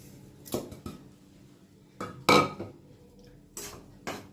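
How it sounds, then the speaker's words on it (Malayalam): A few sharp metallic clanks and knocks of a pan being set down and moved on a stove, separated by quiet pauses. "ആദ്യം ഒരു പാൻ അടുപ്പത്ത് വെച്ചു"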